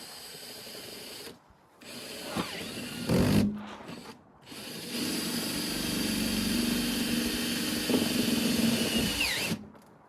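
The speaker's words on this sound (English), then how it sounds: "Let me get my drill and let's screw" A power drill drives screws into the rear door of a Ford Transit van, whirring in long sustained runs that rise and strain, broken by brief stops and restarts, close and loud.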